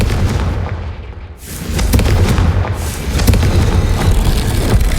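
A booming Confringo blasting-curse explosion in the Hogwarts Legacy video game on hard mode, one loud, full-bodied blast with a long rumbling roar and rolling debris over continuous game ambience.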